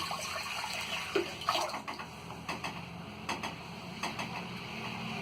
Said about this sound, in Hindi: ये 4 गिलास पानी डाल देंगे।